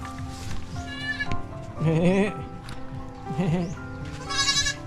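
Goats bleating in several loud, wavering calls at a rural plot of land in the Philippines, with repeated overlapping cries over a steady background of other animal noise.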